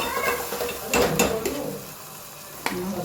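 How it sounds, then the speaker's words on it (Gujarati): Onion and tomato are stirred in a frying pan, a few scraping strokes of the spoon over a soft, steady sizzle, close and clear with no talking. "ડુંગળી, ટામેટું સરસ મિક્સ કરી લઈએ"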